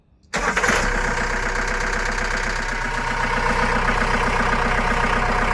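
A Ford car's rebuilt naturally aspirated engine cranks and catches, then settles into a steady, loud, close idle with a slight rough knock, running continuously without talk.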